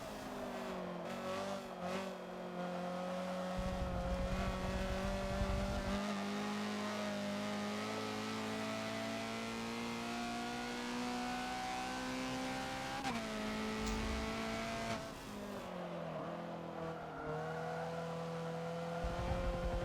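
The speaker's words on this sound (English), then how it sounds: "You hear the rear tires just protest just that little bit and rotate the car just that ever little bit to get around that corner." A Honda CRX racing at night on the Le Mans circuit in Forza, its engine droning steadily through the gears while the rear tires briefly squeal through a corner.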